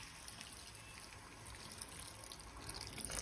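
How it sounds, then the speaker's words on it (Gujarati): Half a glass of water is poured into a pan of undhiyu, giving a steady, soft splashing hiss that swells slightly toward the end in a quiet kitchen. "સાથે આપણે અહીંયા અડધો ગ્લાસ જેટલું પાણી એડ કરી દઈશું."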